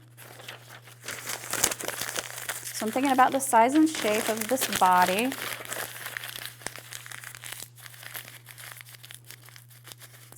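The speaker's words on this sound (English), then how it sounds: "I'm just going to start wadding up some newsprint" Old newsprint being crumpled and wadded into a ball by hand, a steady crinkling and crunching close up that runs under a person talking and continues after the speech stops.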